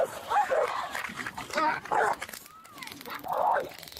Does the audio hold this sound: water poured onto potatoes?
no